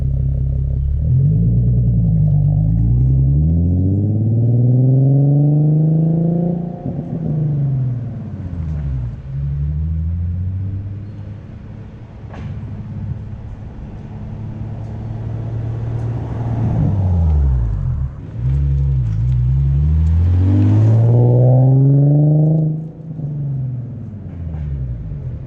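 A Nissan 370Z with a Greddy EVOlution GT exhaust pulls away from a standstill, its loud engine rising and falling through several gear changes with sweeping rev climbs and drops, heard close and alone.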